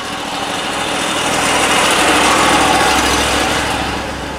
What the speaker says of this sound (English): Both engines running.